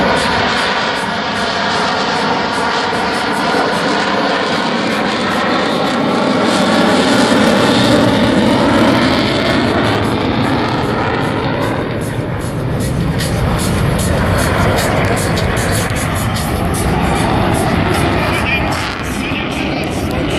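A Czech JAS-39 Gripen fighter jet flying slowly at an air show, a loud sustained jet roar with wavering, shifting tones over twenty seconds, voices faintly mixed in.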